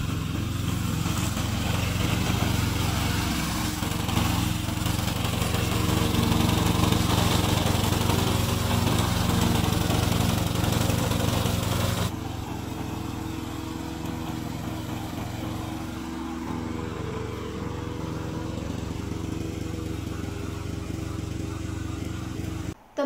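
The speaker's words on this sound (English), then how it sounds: "Today, I will introduce our remote controller mower." A remote-controlled field grass cutting mower runs nearby with a loud, steady, buzzing engine drone. Partway through the sound drops a little in level and tone as the machine moves or changes load, then continues evenly to the end.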